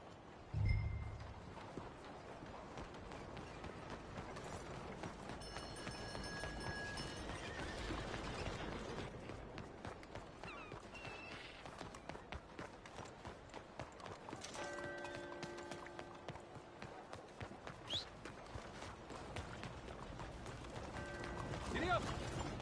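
Horse hooves gallop in a rhythmic, steady clip-clop through a Western town scene. Voices speak over the hoofbeats, and sustained musical tones come and go.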